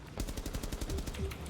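Rapid automatic fire from a 5.52 rifle in Rainbow Six Extraction, a steady, loud stream of closely spaced shots throughout.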